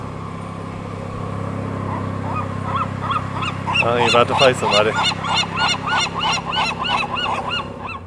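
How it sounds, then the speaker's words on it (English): Western gulls calling on Alcatraz Island, a run of loud, rhythmic, honking cries close by over steady background rumble, with a person talking briefly over the calls. "They are the Western Gull."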